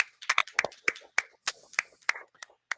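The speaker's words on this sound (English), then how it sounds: "Let's give one last round of applause to all of our awardees" Sparse applause for awardees at a university anniversary gala, a few distinct close hand claps in an uneven rhythm, fairly quiet and thin rather than a full crowd.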